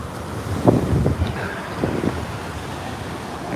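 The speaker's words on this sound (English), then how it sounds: "It's a little windy." Steady wind gusts buffeting an outdoor microphone on Coney Island beach on a warm summer evening, a continuous rushing roar with a few louder bursts early on, no voices.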